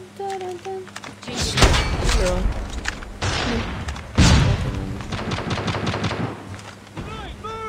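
Gunfire rattles through a Call of Duty Mobile match: bursts of rapid automatic fire and single heavy shots with thuds and booms, mixed with game music and voices talking throughout.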